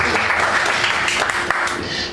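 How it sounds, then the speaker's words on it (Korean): A church congregation claps together during a Sunday morning worship service, a dense, loud burst of applause that fills the whole moment with no voices over it. "맞았다고 생각하시면 박수"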